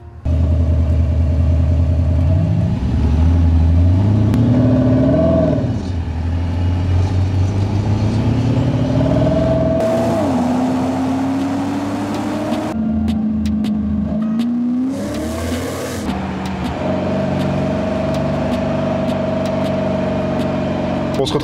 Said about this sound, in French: On se retrouve ici sur l'essai routier avec la sonorité de la Porsche Panamera.